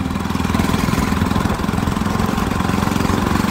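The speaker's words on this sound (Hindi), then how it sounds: "बस थोड़ा एक्सलेटर दो यार इसको" A modified NS 200 motorbike engine with throttle applied, running loud and near in a steady rapid pulsing drone with no talk over it.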